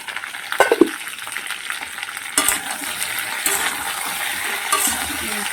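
Potatoes frying in a pan, a soft steady sizzle under intermittent stirring, with a sharp clatter of utensil against the pan near the start and another knock midway.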